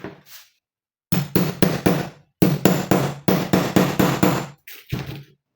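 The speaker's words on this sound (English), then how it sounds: "I'm going to punch a hole through which I'm going to fix my rivets" Repeated sharp strikes from a hand punch driving a hole through a handbag for rivets on a tabletop come in quick bursts of three or four loud thuds, separated by short pauses.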